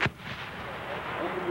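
A weapon fires once at the very start with a sharp, loud blast during US Army basic training on a range, followed by lingering outdoor rumble and faint background noise.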